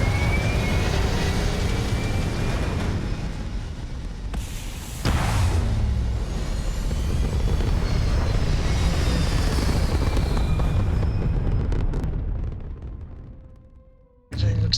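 A spaceship lifting off in the video game Starfield: a loud, sustained engine roar that swells around the midpoint, then fades to near silence before a sudden return at the very end.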